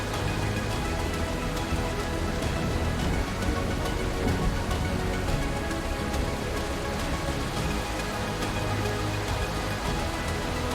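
Heavy rain in an early in-development video game, a dense, loud, unbroken wash of rainfall running the whole time with a faint musical tone buried underneath.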